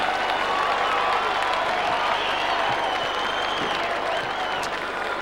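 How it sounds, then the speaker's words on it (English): A loud, steady roar of cheering and applause fills the stands at a 1998 AFL match between Carlton and Port Adelaide after a goal, sustained throughout without easing. "Plenty of noise from the crowd."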